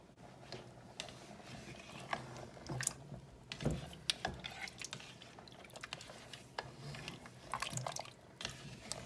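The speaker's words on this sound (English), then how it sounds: "I want to add 1 more cup of water." A cup of water is poured into a pot of lamb curry, giving wet splashes, drips and squishy stirring sounds with scattered clinks, fairly close and moderately quiet.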